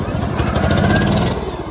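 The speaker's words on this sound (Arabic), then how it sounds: "هذا الفتى حول جزازة العشب الخاصة به إلى سيارة سريعة" A lawn mower rebuilt as a fast homemade car runs with a loud, steady engine drone and pulsing exhaust throughout, close up and continuous with no pauses.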